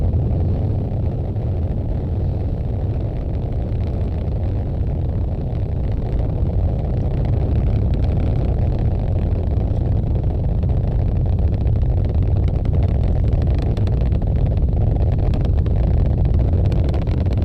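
A rocket engine roars during the Sentinel 6 mission launch as a continuous, loud, dense rumble that holds steady throughout without breaks.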